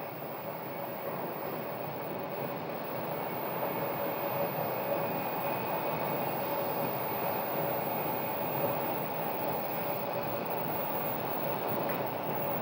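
An American Airlines jet lands on the runway at Phoenix Sky Harbor, heard as a steady, broad roar of engine and wind noise that holds constant from a distance with no distinct events.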